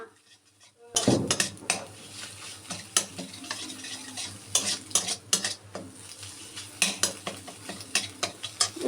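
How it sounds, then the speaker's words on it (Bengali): Cooked Maggi noodles are strained in a kitchen. After a brief quiet start, close, clattering metal-on-pot knocks and scrapes repeat irregularly over a soft steady background. "ম্যাগিটা একটু ছেঁকে দে না"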